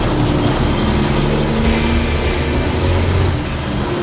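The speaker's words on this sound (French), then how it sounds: "Oh le turbo comment il siffle" Heavy-duty truck engine in a Citroën HY, with a rising high-pitched turbo whistle that climbs and holds before dropping away, over a loud, dense engine roar and exhaust rumble throughout.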